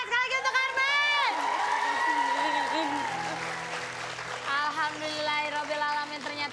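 Studio audience applause and cheering for a contestant on a comedy game show, sustained clapping under loud music and a host's voice, fading slightly midway.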